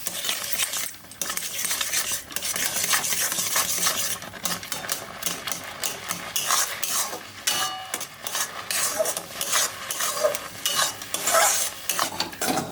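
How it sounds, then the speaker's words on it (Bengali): Semolina poured into boiling water is stirred nonstop with a utensil scraping and clinking against the pot, a busy, irregular stirring that runs throughout under a faint bubbling sizzle. "জল ফুটেছে এবারে আমি সুজিটা ঢেলে দিব দিয়ে অনবরত নাড়া দিতে হবে"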